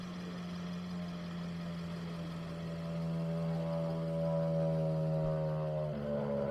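A racing vehicle's engine at a dry lake race, not a Rotax, drones steadily at low pitch, medium distance, rising slightly and shifting tone near the end.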